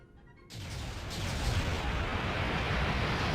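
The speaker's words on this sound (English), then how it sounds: "Literal bombs on sticks, everyone." Bombs on sticks explode in the Kessen 2 battle game, a sudden loud blast after a quiet half second that swells into a sustained, dense roar of rumbling explosions and battle noise through to the end, with no talking.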